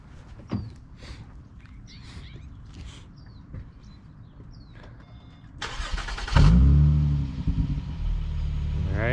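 A 4th-generation Acura TL with an Endless RPM exhaust cranks and fires up, the engine catching with a loud, deep burst and settling into a steady idle after several seconds of quiet shuffling and small clicks.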